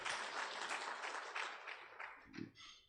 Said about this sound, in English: Can we give these ladies a hand of applause?